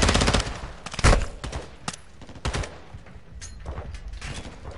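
Hip-fire gunfire in Call of Duty: Modern Warfare II campaign, loud close rapid automatic bursts and single shots in quick uneven clusters, fading to sparser cracks.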